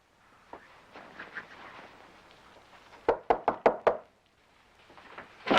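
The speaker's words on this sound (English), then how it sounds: "I was just gonna knock." Five sharp, evenly spaced knocks on a wooden door, close and crisp, rapping in a quick rhythm after a stretch of quiet room tone and soft shuffling.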